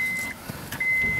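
Steady electronic warning chime tone from a Honda Accord, with the key turned on during horn and airbag light repair. It sounds as a continuous beep with brief gaps, over faint handling noises.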